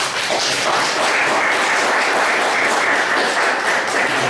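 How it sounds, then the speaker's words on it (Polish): Applause from an audience at a Polish event honouring a guest professor, a dense steady clapping that carries on evenly throughout. "Brawa."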